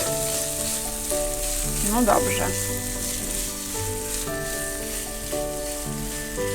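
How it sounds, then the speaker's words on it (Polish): Onions sizzle steadily in a pan with salt and chili, a constant close frying hiss with brief stirring scrapes and a short spoken remark. "Mam tak smażyć około 15 minut."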